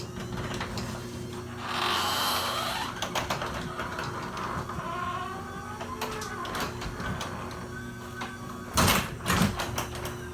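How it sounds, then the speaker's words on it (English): A Chamberlain B970 garage door opener drives a garage door open with a mechanical hum and rattle, joined by intermittent clunks and a brief louder burst near the end. "And the door should fully open."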